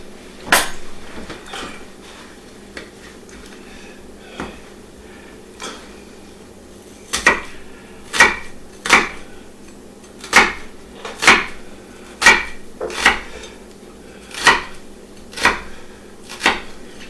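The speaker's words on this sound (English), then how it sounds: "now I'm going to chop up a little bit of red onion" A kitchen knife chops red onion on a cutting board, close and crisp: a few scattered cuts at first, then a steady run of sharp knocks about twice a second, with no talking.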